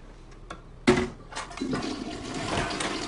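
A toilet flushes with a sharp handle clunk followed by a loud rushing swirl of draining water that carries on to the end, heard close with no talk.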